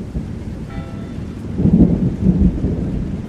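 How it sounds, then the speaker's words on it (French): Rain and thunder effect for a French children's read-aloud story set on a farm: steady rain hiss under a low rumble of thunder that swells into louder rolling peaks midway, with no voices. "Oh, voilà la pluie !"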